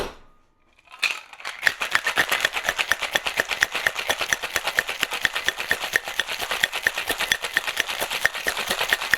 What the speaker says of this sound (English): we're going to shake for about 10 to 15 seconds or until it's ice cold in our hand